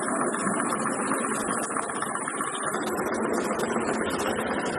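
A Triang 0-4-0 model steam locomotive's electric motor runs continuously with its wheels spinning, a steady close whirring hum and rattle with no pauses.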